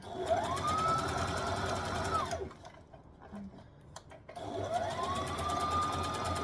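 A sewing machine runs in two steady bursts while stitching fabric near elastic during dressmaking, with a short quiet pause between the runs and no talking.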